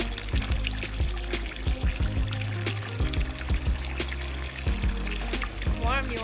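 Sacred longevity water pours and trickles at a Shinto shrine in Kyushu, a soft, steady stream running beneath intermittent speech.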